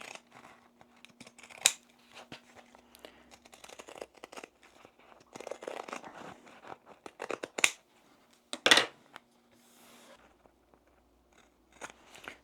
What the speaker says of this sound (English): take some pinking shears or just clip into the curves around there and around here